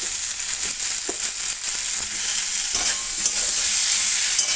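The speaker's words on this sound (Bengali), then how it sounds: "আর এর মধ্যে আমি আলু দিয়ে নাড়াচাড়া করব।" Potatoes are stirred into spices frying in a pan, giving a loud, steady hiss and sizzle with scraping stir strokes close by, and no talking.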